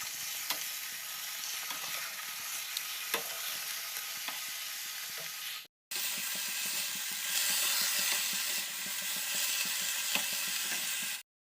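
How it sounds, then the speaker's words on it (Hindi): Potatoes and cabbage fry and get stirred in a pan over a medium flame, a steady close sizzle with scraping stir strokes and small clicks, broken by a brief silent gap midway before the sizzle returns louder. "पहले आलू को डाल दिया है, अभी इसमें पत्ता गोभी डाल रही हूँ।"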